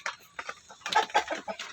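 A brooding Shamo hen on day 20 of sitting on eggs clucks in short, soft bursts, a few low murmuring clucks followed by a quicker run of louder ones, close by.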